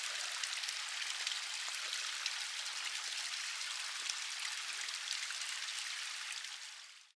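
A forest-trail waterfall roars as a steady, dense broadband rush of falling water, continuous and fairly close, with no voices over it until it fades out at the very end.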